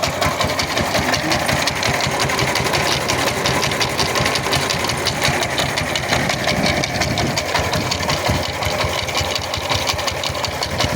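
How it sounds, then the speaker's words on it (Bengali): A power tiller engine works a wet village paddy field, its loud, rattling mechanical drone running continuously and close, with a fast even knocking rhythm. "পাওয়ার টিলারটা চলে আসছে জমিতে"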